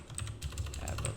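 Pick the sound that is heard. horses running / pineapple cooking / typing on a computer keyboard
typing on a computer keyboard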